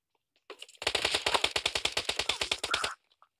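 Automatic gunfire in PUBG Mobile: one loud, rapid burst of about twenty evenly spaced shots lasting roughly two seconds, close and alone, with brief quiet before and after.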